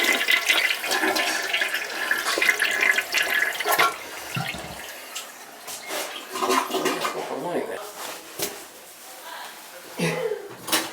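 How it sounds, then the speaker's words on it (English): Toilet flushing in a house with a hot water problem, a loud rushing swirl of water with clattering and knocking handling noises, mixed with intermittent talking. "Also flush the toilet."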